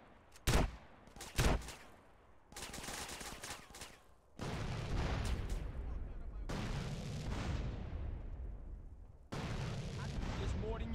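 Sharp bursts of gunfire from GTA San Andreas, with two distinct shots early on followed by heavier, sustained rattling and booming volleys, loud and close, broken by brief pauses.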